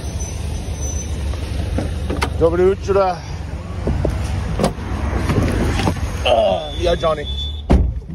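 Steady low road and engine rumble fills the cabin of a car being driven in Ukraine, continuing under a few short exchanges of conversation and occasional light knocks.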